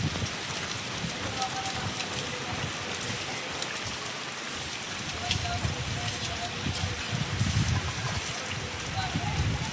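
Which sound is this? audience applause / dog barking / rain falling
rain falling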